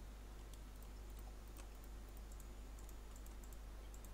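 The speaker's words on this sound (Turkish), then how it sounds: "Mouse'luk sesim çok mu geliyor lan?" A computer mouse clicks quickly and repeatedly during a Minecraft building session, with sharp faint taps arriving in irregular bursts over a steady low background hum, close to the microphone and with no talking.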